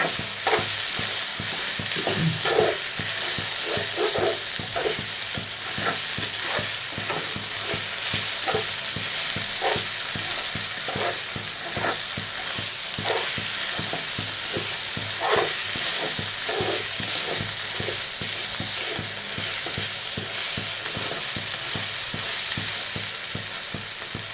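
Brinjal curry with ginger and garlic fries steadily in a pan, a constant loud sizzle broken by repeated scraping stirs at a regular pace, with no voices.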